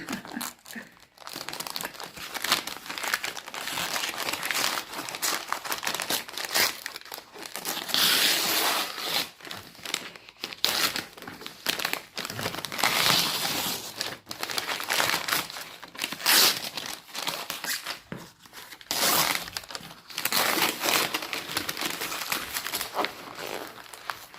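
Mail packaging is torn open by hand in a long run of close crinkling, crumpling and ripping bursts, coming in uneven waves with short pauses between pulls.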